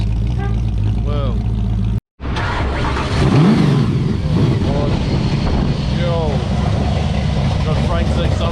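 A Ford XW car with a modified camshaft idling and revving at a morning car meet, a loud, lumpy engine rumble that swells as it revs, with people talking over it and a brief cut early on.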